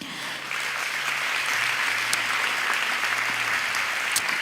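A pageant audience applauds the committee co-chairs at Miss Tomball 2026 with steady, sustained clapping throughout, and a low hum runs underneath.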